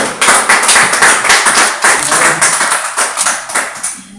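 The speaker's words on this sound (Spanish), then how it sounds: "¿Quieren darle a Dios un aplauso por todo lo que ha hecho?" A church congregation claps together during a Spanish-language sermon, a loud, dense burst of hand claps with a rhythmic pulse that thins out toward the end.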